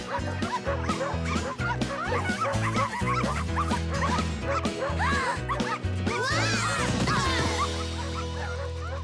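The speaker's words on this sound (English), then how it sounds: "These are grocery bags, not chew toys!" Cartoon puppies chewing grocery bags, yapping and barking in quick repeated bursts, then a drawn-out whimpering whine near the end, with a voice speaking among them.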